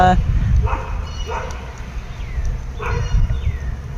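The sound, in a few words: dogs barking at passing mail car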